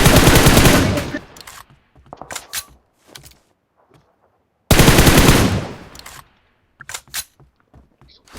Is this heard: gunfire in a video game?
yes